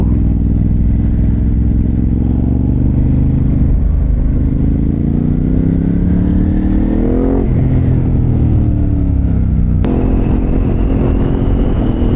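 A Ducati Hypermotard 950 RVE with a Termignoni exhaust revs loudly up close, its deep engine note climbing and falling steadily across several long rises with a sharp crackle near the end.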